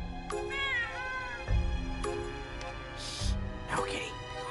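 A cat in the Clarence: Thirty Days & Seven Seas game meows several times, clear drawn-out cries with a couple of louder thumps between them, up close within the game's sound mix.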